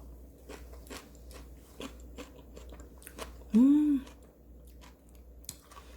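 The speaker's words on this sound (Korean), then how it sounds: "제가 한번 먹어볼 테니까 소리 한번 들어보세요." Quiet background with scattered soft ticks, then one loud, brief crunchy bite of crisp seasoned garlic scapes up close.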